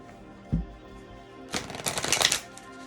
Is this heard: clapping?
no